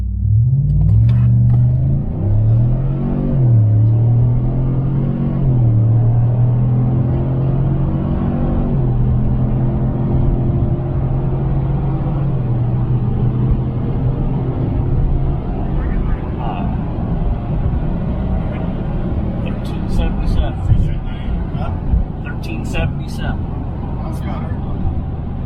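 A 2021 Chevrolet Trail Boss with a 6.2L V8 and a new muffler accelerating hard on a quarter-mile run, a loud rising engine drone that climbs through gear shifts and then settles into a steady roar.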